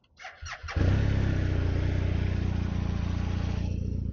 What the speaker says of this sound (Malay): jom kita start tengok ini BMW RT 1250 bunyi dia macam mana